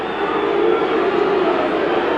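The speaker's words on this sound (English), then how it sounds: "gets the verbal treatment from the Leeds crowd." Leeds United home crowd jeering and booing Hull City player David Bamba at a 1990 football match, a broad, steady roar of massed voices filling the stadium without a break.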